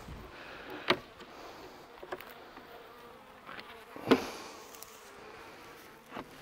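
Robber honey bees buzzing around winter beehives in an apiary, a steady insect drone with a few louder buzzes as bees pass close to the microphone.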